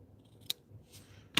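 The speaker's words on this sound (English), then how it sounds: "Let's see how my detail scissors work at cutting ribbon" Two sharp snips from small detail scissors cutting through ribbon during a stamping craft project, a faint one early and a louder crisp cut near the end, with no talk.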